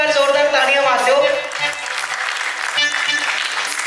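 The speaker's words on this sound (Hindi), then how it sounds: "एक बार जोरदार तालियां मार दो" Applause from a crowd fills the clip, steady and fairly loud, with some voices mixed in near the start.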